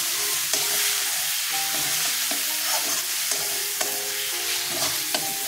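A cumin, coriander and chili spice paste sautéed in a pan, with a steady bright sizzle under repeated stirring scrapes and utensil clinks against the pan, close and without voices.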